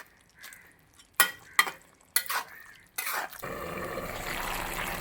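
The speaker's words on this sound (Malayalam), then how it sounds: "നന്നായിട്ട് ഇളക്കി കൊടുക്കുക." Mixed vegetable kurma boiling in a pot is stirred with a spoon, giving a few distinct scraping knocks followed by a steady bubbling sizzle, close and moderately loud with no talking.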